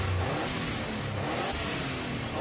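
A turbocharged car's blow-off valve releases boost pressure in a loud, broadband whooshing hiss, heard close over engine noise in two pulsing surges.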